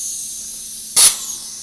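A single short burst of compressed air hisses from a truck's air brake system as the parking brake is pressed, loud and abrupt against a quiet steady background, fading quickly.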